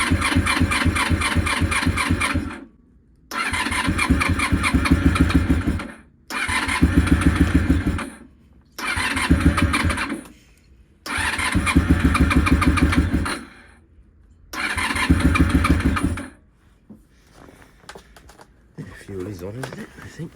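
A Honda VFR400 NC30 motorcycle engine on choke in cold weather cranks and fires in six loud bursts of a few seconds each, separated by short pauses, and then goes quiet.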